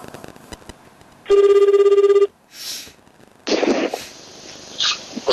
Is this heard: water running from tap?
no